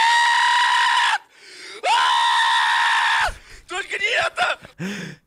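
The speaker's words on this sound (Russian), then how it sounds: "Какой у меня забавный крик бывает." A man screams loudly in a played-back clip, two long sustained strained cries that break off abruptly, followed by a burst of agitated shouting and yelling.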